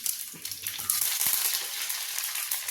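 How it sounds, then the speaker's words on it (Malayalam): Curry leaves hiss and crackle as they drop into hot oil where mustard seeds have just popped, a loud bright sizzle for a Kerala tamarind curry with a few low clinks underneath. "നമുക്കൊരു കറിവേപ്പില ഇട്ട് കൊടുക്കും"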